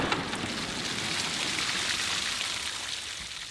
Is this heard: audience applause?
no